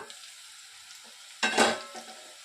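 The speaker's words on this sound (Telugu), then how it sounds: "దొండకాయ బాగా ఫ్రై అయిపోయిందండి" A soft, steady sizzle of ivy gourd frying in a pan, with a brief louder burst of stirring and sizzling midway, no voices.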